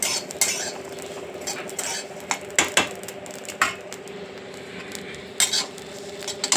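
Moth beans (matki) being roasted in a pan over a medium gas flame, with a spatula or spoon scraping and stirring against the metal in irregular clinks over a low, steady background hum.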